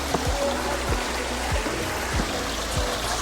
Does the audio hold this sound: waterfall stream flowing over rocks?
yes